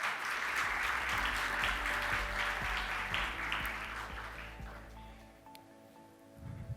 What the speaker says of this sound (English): Can we have an applause, please, for them?